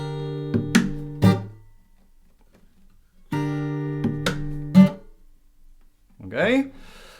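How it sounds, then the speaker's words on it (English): A guitar plays the first chord of a song, strummed in quick strokes that are cut short into muted rests, played twice, followed by a brief bit of speech. "So the first chord sounds like this."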